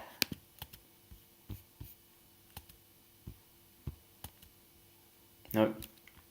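Light clicks from a computer keyboard spacebar being pressed, a dozen or so sharp taps spaced irregularly, close and quiet, with a brief louder rustle near the end.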